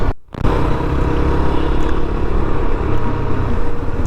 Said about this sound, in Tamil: நான் செகண்ட் கியரில் வச்சு எடுக்கிறேன், அப்படியே வந்து எடுக்குது.